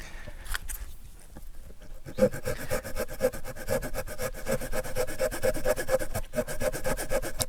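Victorinox Trailmaster pocket knife saw cutting through damp, waterlogged wood outdoors, starting with a few hesitant strokes before settling into a fast, even back-and-forth rasping rhythm, close and fairly loud.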